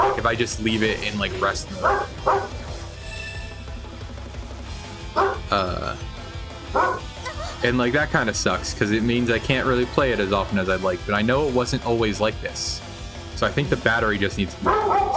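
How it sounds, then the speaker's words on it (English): A pet dog barks and yips in short bursts throughout, close by and loud, under a person who keeps talking over it about a handheld game console. "Sorry if you hear my dog barking."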